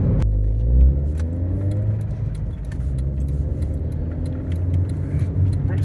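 Car engine hums steadily with rising and falling pitch as the vehicle accelerates hard around a roundabout, close and continuous with road rumble and light rattles inside the cabin.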